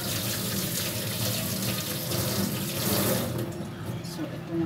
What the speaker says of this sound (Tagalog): hugasan ang ating itlog